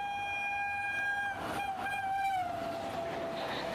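A new aerodynamic WAP-5 electric locomotive on Indian railways passes with its horn blaring in a long, steady, loud tone that sags slightly in pitch, over a rumbling rush of the moving train.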